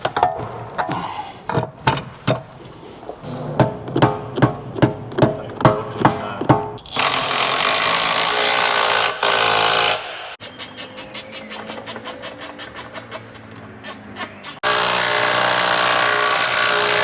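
Power tool, likely an impact gun, driving Loctite-coated bolts to secure a wheel hub on a cheap Mercedes SLK or S-Class: bursts of rapid hammering and buzzing whirs that stop and restart, loud and close, with no talk.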